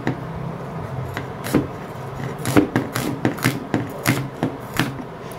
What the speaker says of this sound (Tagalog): Hiwain ko naman ito yung ating sibuyas.